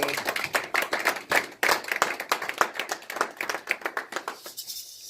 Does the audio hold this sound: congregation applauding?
yes